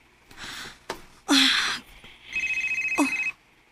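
Telephone ringing late at night indoors, a shrill electronic trill pulsing rapidly for about a second near the end, loud and close, preceded by breathing, a gasp-like sound and other short noises.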